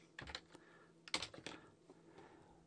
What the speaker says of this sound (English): So I'm going to type in TNA